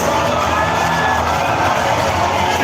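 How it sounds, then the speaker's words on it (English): A large crowd at Singapore's National Day Parade cheers a parachutist landing, a loud, sustained roar of shouts and whoops that stays steady and dense the whole time. "The crowd giving him a warm welcome home."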